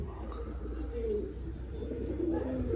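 Pigeons kept by a Punjabi pigeon fancier coo softly in a steady run of low calls, nearby and moderately loud over a constant low background rumble.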